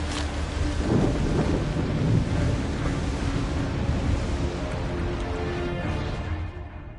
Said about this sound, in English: Looks like quite the storm.